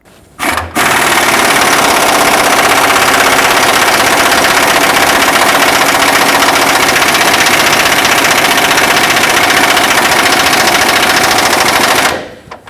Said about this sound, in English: just tighten it up really tight with my air impact